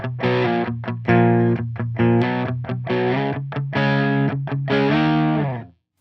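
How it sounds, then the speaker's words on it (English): Electric guitar played through a clean amp channel with a Tube Screamer overdrive adding light distortion, a run of strummed and picked chords with short gaps, loud and close, ringing out and then stopping abruptly near the end. "I'm gonna go ahead and turn on my clean channel and just play the distortion through the clean channel"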